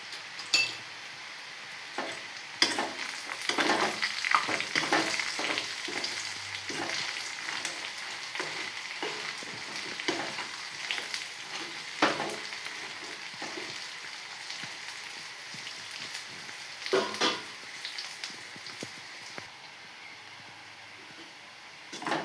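Raw plantain fried with ground masala powder crackles and sizzles softly in the pan, with scattered utensil taps and scrapes over a continuous fizz and no talking.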